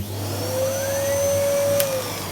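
A repaired Numatic NVQ250 Henry vacuum cleaner in chrome runs steadily with a loud, constant motor drone and a high whine that rises slightly partway through.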